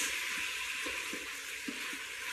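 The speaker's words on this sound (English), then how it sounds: "we're browning the meat" Beef browning in a hot pan, a steady bright sizzle with soft stirring scrapes and occasional light taps, close and constant with no talking.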